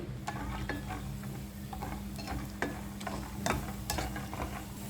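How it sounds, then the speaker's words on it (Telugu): Peanuts frying in hot oil for a tomato coriander chutney, a soft steady sizzle with scattered light clicks and taps of a spoon against the pan, fairly quiet and close, no voices. "ఆయిల్ హీట్ అయిన తర్వాత వేరుశెనగని యాడ్ చేసుకుని దోరగా వేయించుకోవాలి."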